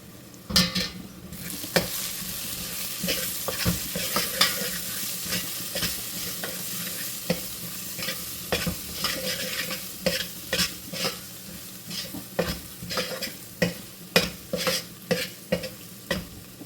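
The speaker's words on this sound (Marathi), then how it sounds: "आता हे सर्व मसाले आपण घाटून घेऊया" A spoon scrapes and stirs Kashmiri red chili and mutton masala spices in a hot pan, a regular series of sharp scraping strokes over a low sizzle that grows more rhythmic toward the end, with no talking.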